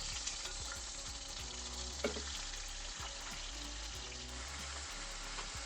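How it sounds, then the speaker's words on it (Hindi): Mutton pieces deep-frying in oil in a karahi, an even close sizzle and bubbling hiss with a few sharp spatters and occasional low thumps, no talking. "सिर्फ इसको ना ऑयल में हम अच्छी तरह पहले डीप फ्राई करेंगे।"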